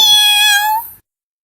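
A cat gives a single clear, loud meow lasting about a second, close by, with no voices over it.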